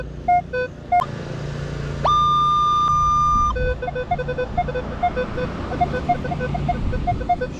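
A Minelab Equinox 800 metal detector beeps in short tonal chirps while sweeping a city park, with one sustained steady tone in the middle; the signals are close and clear over faint outdoor background noise.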